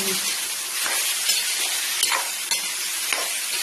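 Lentils, soybeans and washed rice sizzling in a hot frying pan: a steady, close, bright hiss with faint stirring scrapes throughout, no talk.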